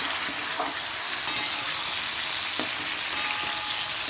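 Mixed ingredients sizzle and fry together in a pan with a steady, hissing crackle. Occasional soft scraping and stirring knocks sound close by.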